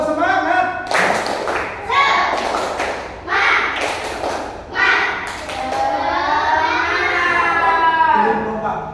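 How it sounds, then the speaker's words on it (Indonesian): Schoolchildren in a classroom do a rhythmic spirit clap, sharp bursts of group clapping in an uneven pattern alternating with loud, excited young voices chanting and shouting. "Tepuk semangat."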